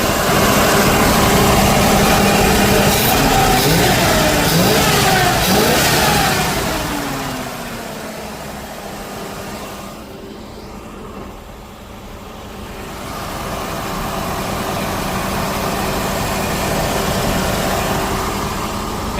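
A 1977 Chevrolet Camaro V8 engine runs loudly and steadily, revving briefly before easing down to a lower idle, then rising slightly again, with no talking; the engine is smoking badly.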